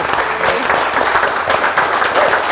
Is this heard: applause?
yes